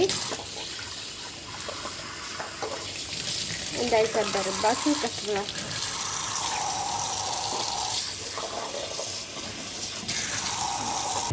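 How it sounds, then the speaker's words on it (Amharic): A kitchen tap runs steadily while four eggs are washed under it, the flow shifting in tone as the eggs are handled, with someone speaking briefly over the water. "በመጀመሪያ እንቁላል በማጠብ እንጀምራለን ማለት ነው።"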